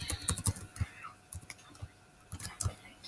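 Quiet typing on a computer keyboard, with irregular clusters of light key clicks and taps that pause and resume, faint and close.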